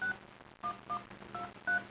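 A BlackBerry Storm touchscreen keypad sounds a quick run of five short telephone dialing tones, evenly spaced and clear, with a faint room hum behind them.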